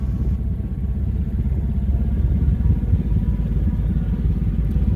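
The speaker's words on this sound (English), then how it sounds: "gonna see how this engine brake is on this bad boy" Kawasaki Teryx KRX 1000 side-by-side engine braking down a steep hill, a steady low rumbling drone with faint clatter, close and continuous without pause.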